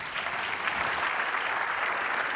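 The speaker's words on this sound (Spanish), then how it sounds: "Merecido aplauso para Ramón Albert con su presentación." Audience applauding after a presentation at an international transparency conference, a steady dense clapping from a crowd that fills the whole moment without talk.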